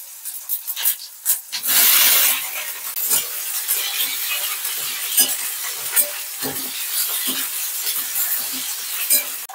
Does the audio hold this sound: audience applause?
no